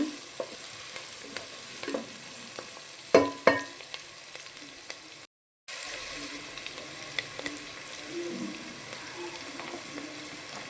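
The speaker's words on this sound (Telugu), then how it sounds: "క్యాప్సికం మంచిగా వేగనిక మనము టమాటో ఉడికిపోతుందండి" Capsicum and tomato fry in a pan as semolina upma is made, a steady soft sizzle with a few sharper stirring clatters partway through and a brief dropout; no talking.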